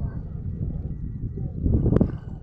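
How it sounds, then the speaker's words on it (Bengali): Wind blows across the Jamuna river bank at Sirajganj in the afternoon, a steady low rumble buffeting the microphone that swells louder toward the end. "কত সুন্দর বাতাস।"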